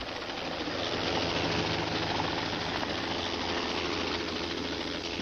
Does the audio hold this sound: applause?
no